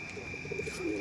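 Giribaz pigeons in a loft, among them a female, give a faint, soft cooing in short rhythmic pulses against a quiet indoor hum.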